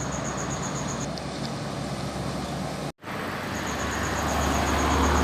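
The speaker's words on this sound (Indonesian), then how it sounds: "Bus Bintang Utara." A Bintang Utara bus passes along a road with a loud, steady engine and tyre roar, briefly cut by a short dropout, then continuing as traffic noise builds again.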